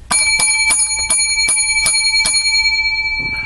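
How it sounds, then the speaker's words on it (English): Small bright holiday bells ring out in a run of seven sharp, evenly spaced strikes, each with a long shimmering ring that overlaps the next and fades at the end. "Seven lucky bells for the holiday special show."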